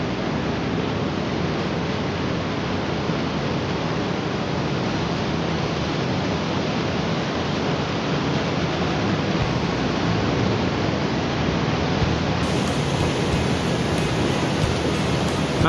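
Floodwater rushes steadily through a river channel widened by flooding near an irrigation works in Bireuen, Aceh, a loud, continuous broadband roar of flowing water close by, with no talk.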